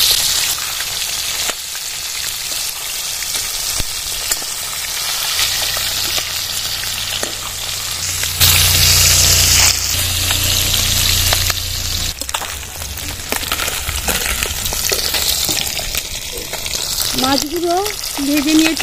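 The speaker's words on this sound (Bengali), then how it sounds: "ভাজা হয়ে গেছে মাছ, আর একটু উল্টিয়ে দেবো" Koi fish sizzle loudly and continuously in hot mustard oil, with occasional scraping and clatter as the pieces are turned in the pan.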